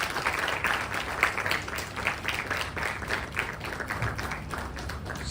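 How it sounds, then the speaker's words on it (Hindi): Audience applause at a Hindi-language honouring ceremony, a steady wash of many hands clapping at moderate level throughout with no gaps. "तालियां बजाते रहिए आप लोग।"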